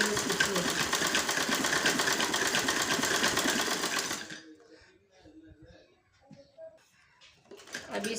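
A domestic sewing machine stitches the seam of an Afghani salwar in plazo style, running loud and steady for about four seconds before stopping and leaving a quiet room with faint handling noises.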